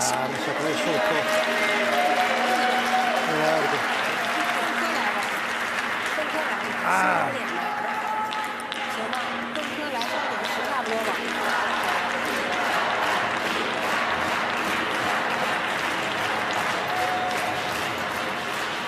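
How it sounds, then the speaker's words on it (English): Crowd noise at a wheelchair curling mixed doubles match between Italy and China, a steady broad wash of applause and cheering from the stands running throughout, with commentary voices talking over it. "Crowd urging their teams on."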